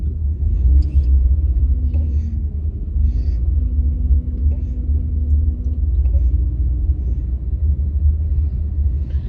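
A car creeps slowly around a parking lot during a driving lesson, its low engine rumble steady and close from inside the cabin, with faint occasional creaks and no talk.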